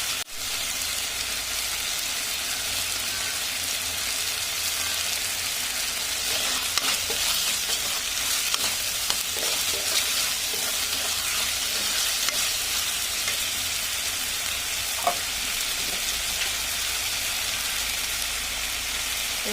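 Tomatoes frying in hot spiced oil in a pan, a dense continuous sizzle with stirring scrapes and occasional clinks, steady and moderately loud.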